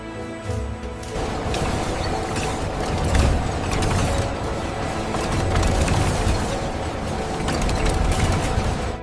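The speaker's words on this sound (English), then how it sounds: "Precision robots remove metal parts without damaging the reusable fabric." Factory robots pull metal parts out of recycled plastic-bottle fabric at a carpet recycling plant, giving a steady mechanical clatter of ratcheting and gear-like clicks with a continuous hum throughout.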